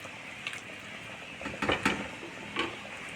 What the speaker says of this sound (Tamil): பாருங்கள், நல்லா கொதிக்க ஆரம்பிச்சாச்சு.